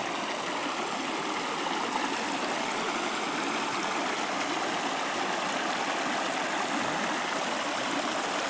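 Steady broadband rush of the flowing Jayanti River at dusk, between hills and forest, continuous and even throughout, with no voices.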